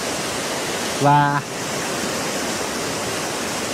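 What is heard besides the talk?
high-pressure water gushing out of a pipe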